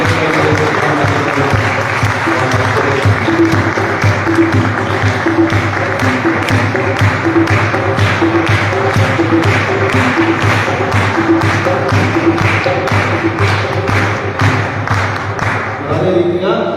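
An audience in a college hall claps for guests at a Christmas celebration, sustained rhythmic applause with a regular beat and some thumps, under a low hum from the hall's sound system.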